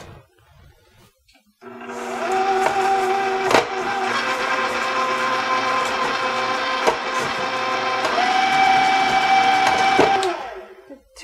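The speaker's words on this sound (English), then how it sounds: "I'm just going to put this on my mixer and mix these until well blended." A stand mixer whirs steadily as it blends wet cookie ingredients for pumpkin cookies in a mixing bowl, a loud continuous motor drone with a brief pitch shift midway, starting and stopping cleanly with no talking.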